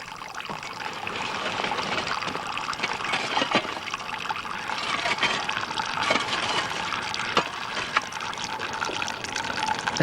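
Poitin distillate runs from the tail of a still's worm in a steady, continuous trickle of liquid, close and fairly loud, with no talking over it.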